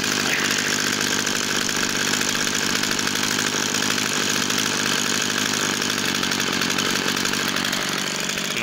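A Partner 351 petrol brush cutter idles close by after repair and diagnosis. Its small two-stroke engine gives a loud, steady, buzzing drone with an even rattle, running alone without change for the whole stretch.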